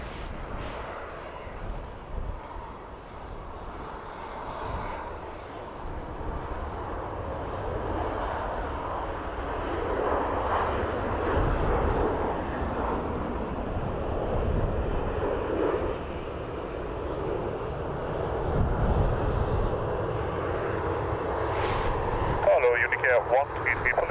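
An airplane at Dublin Airport rumbles steadily as it moves, a broad, loud drone that swells slightly over time with faint radio chatter and voices around it.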